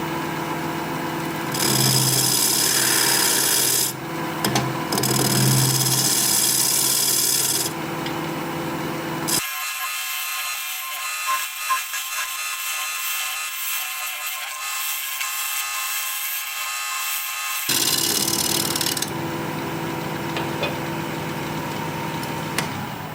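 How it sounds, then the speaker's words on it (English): Roughing gouge cutting wood on a lathe while turning a vase, a steady close rasping scrape over the motor's hum, broken into several long passes with shorter pauses and an extended quieter stretch between. "So I'm done with the roughing gouge for now."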